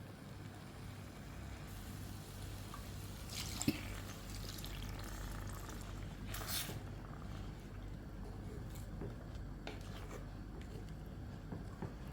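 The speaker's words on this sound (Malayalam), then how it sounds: "ഇനി നമുക്ക് ചാറിന് ആവശ്യമായിട്ടുള്ള വെള്ളം കൂടെ ഒഴിച്ചു കൊടുക്കാം." Water poured into a pan of prawn curry for the gravy, a soft, continuous splashing and trickling heard faintly and close by.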